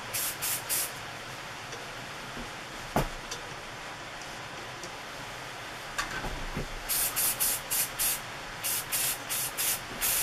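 Paint sprays out in a light tack coat as a steady soft hiss, with short bursts of spray near the start and again near the end.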